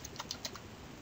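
Quick keystrokes on a computer keyboard as a search keyword is entered: a short burst of four or five close, crisp clicks, then quiet, with no voices.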